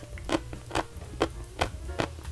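Several crisp crunchy bites of homemade Korean radish pickle (mu jangajji), thick-cut pieces, in steady rhythm at close range with no talk.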